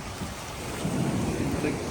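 Ocean waves in Australia roll and crash in a continuous roar, mixed with gusting wind against the microphone.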